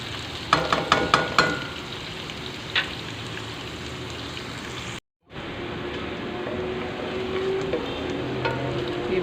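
Onions frying in a pan for chicken qeema with potatoes, a crackling sizzle opening with a quick burst of spoon taps, then a brief cut to silence before a steadier, softer frying hiss continues.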